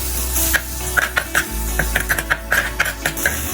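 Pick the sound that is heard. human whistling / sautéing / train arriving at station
sautéing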